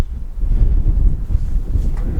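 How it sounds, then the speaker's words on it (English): Wind buffets the microphone outdoors on a cold morning, a loud low gusty rumble that swells and dips throughout, close and unbroken. "Windy."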